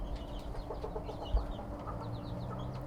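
Bantam chickens cluck softly and steadily against a constant low background hum, with a brief thump partway through.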